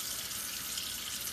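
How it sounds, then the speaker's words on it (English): Cold tap water runs steadily over frozen shrimp to thaw them, a constant hissing splash with no pauses. "the best way to do it and get them all thoroughly thawed out is to use running water"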